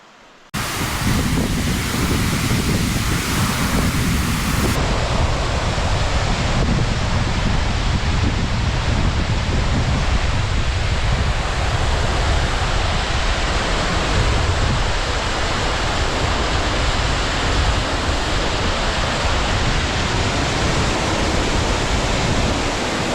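Hebbe Waterfalls in Chikmagalur, Karnataka, roars with a loud, dense, unbroken wash of rushing water close by, steady from start to finish with nothing else standing out.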